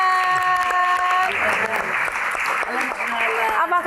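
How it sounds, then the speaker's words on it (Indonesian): Audience applause at a Q&A event for the film Si Doel Punye Nyali, loud sustained clapping filling the room while a host's voice carries over it at the start. "Mbak Yesi, tepuk tangan sekali lagi yang paling meriah teman-teman"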